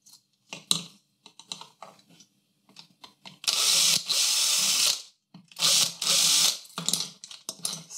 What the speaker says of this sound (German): und bohre die 2 Löcher hier nach